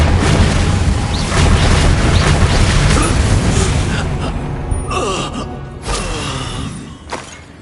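In Hogwarts Legacy, an Incendio fire spell is cast with a loud roaring whoosh that blooms into a dense burst of flame and fades over several seconds, with small crackles and game effects trailing after.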